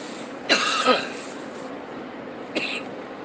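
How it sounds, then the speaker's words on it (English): Two coughs, a longer harsh one followed by a shorter one a couple of seconds later, close and fairly loud. "I got this nagging cough"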